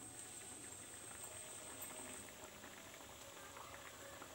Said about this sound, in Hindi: तो चलंतु देखिबा आमर आलू सिझी लागि नै।